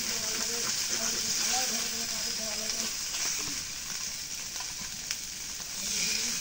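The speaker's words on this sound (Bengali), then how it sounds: "মাছগুলো এখন ভাজা হয়েছে, এখন নামায় নেই।" Fish fries in hot oil in a wok, a steady loud sizzle throughout with voices talking over it.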